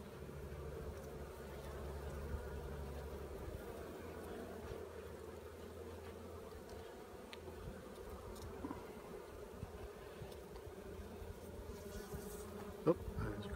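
Honey bees hum in a steady, dense drone from an opened hive during a spring inspection, fairly faint and continuous with no talk, a faint click near the end.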